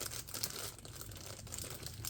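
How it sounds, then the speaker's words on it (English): A small Ziploc plastic bag is handled close up, giving soft, quiet crinkling and rustling in short irregular bursts, with no talking. "oh, it's in a little Ziploc bag"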